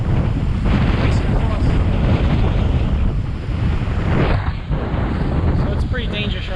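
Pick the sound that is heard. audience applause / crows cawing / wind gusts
wind gusts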